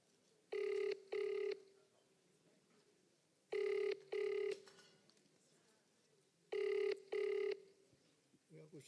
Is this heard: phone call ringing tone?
yes